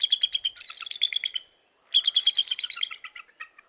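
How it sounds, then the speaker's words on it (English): Bald eagle calling in winter in the Skagit Valley, two bursts of rapid, squeaky chattering piping notes with a short pause between, fairly close and clear with no talk. "Even with a call that sounds like a rusty gate, the bald eagle is lord of the landscape."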